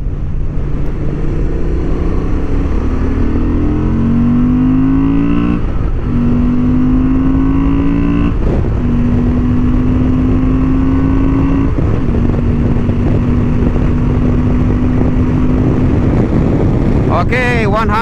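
A 2023 Honda XL750 Transalp motorcycle accelerating hard on a racing track, its engine rising in pitch through several gears with brief dips at each shift, loud and continuous under heavy wind noise.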